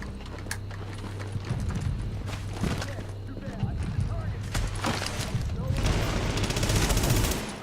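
Rapid LMG machine gun fire rattles in The Division during a Times Square legendary mission, with dense bursts running over a busy in-game soundscape while a person talks throughout.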